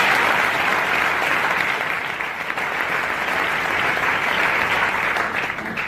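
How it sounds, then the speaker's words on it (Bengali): A seated audience at a company gathering gives a volunteer, a man named Mohammad Khorshed Alam, a continuous wash of applause, steady and fairly even in level, with only faint background murmur. "করতালি হোক ওনার জন্য একটা"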